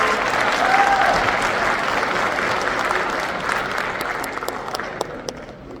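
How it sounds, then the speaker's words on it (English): Sustained audience applause fills an Army football team awards ceremony, a dense, steady wash of many hands clapping that holds strong throughout and thins slightly toward the end. "How about one more round of applause for these amazing honors?"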